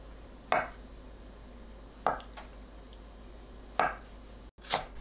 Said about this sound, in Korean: 두부를 1cm 두께로 썰어주세요